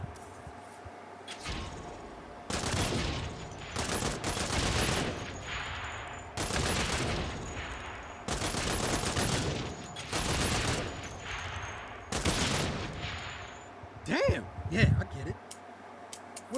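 Bursts of video game gunfire from Saints Row, several loud volleys of rapid shots separated by short pauses, with faint voices talking underneath.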